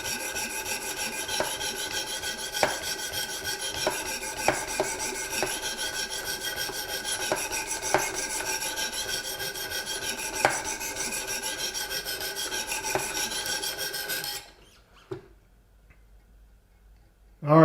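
Steady rasping strokes of a Hinderer Firetac knife blade worked toward the tip on a Wicked Edge guided sharpener, with rhythmic scraping and periodic ticks for about fourteen seconds before falling nearly silent.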